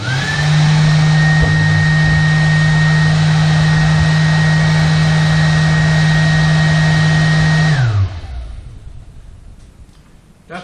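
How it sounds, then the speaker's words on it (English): An electric motor drives the flue fan of a forge with a loud, steady high whine and a constant hum, running evenly for about eight seconds before spinning down and fading away. "That is just a bit more powerful than it was with the other motor, so that should do the job."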